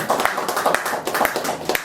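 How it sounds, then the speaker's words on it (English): A congregation clapping together at a Pentecost Sunday church service, a steady rhythmic patter of many hands nearby, with beats roughly every quarter second. "Let's give a clap of hand to our Father."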